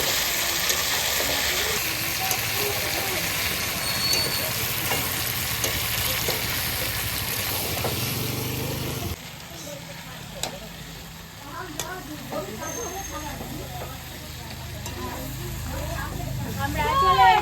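Potatoes going into a sizzling pan of country chicken curry, a loud hiss and bubbling stir that eases partway through, with people talking over the cooking.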